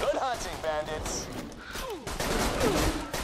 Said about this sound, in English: I just shot people.